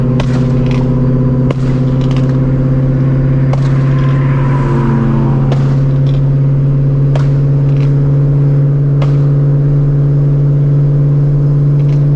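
A supercharged Shelby GT350 runs on a dyno, its engine holding a loud, steady drone with a strong low hum, broken by brief sharp clicks and a short rising surge partway through.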